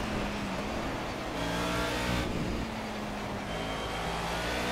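A Mercedes 190E touring car races in the rain at Brno in Project CARS, its engine droning loudly and steadily with shifting revs and a brief gear change midway.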